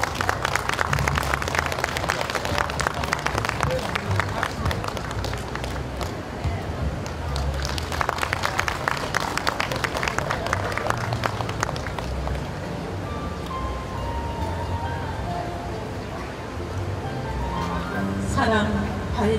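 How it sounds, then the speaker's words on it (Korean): Audience applause at an outdoor poetry and music performance by a Seoul stream welcomes a poet, with dense, continuous clapping from a crowd that gradually thins, then gentle background music rises near the end. "여러분 큰 박수로 맞이해 주시기 바랍니다"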